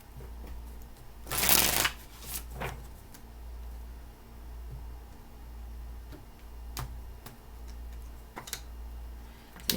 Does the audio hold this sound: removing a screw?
no